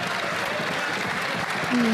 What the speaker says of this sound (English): Is that the Conservatives getting up and cheering because the CRA is so trash?